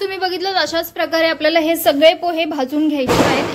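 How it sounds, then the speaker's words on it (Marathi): A person talks steadily indoors, then a sharp, noisy firecracker burst from outside rings out right after the speech ends. "बाहेर खूप फटाके फोडत आहेत"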